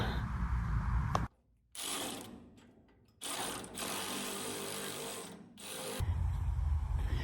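Bursts of rapid mechanical clicking from a ratchet wrench tightening bolts on a Humvee, broken by brief pauses, close up with no voices.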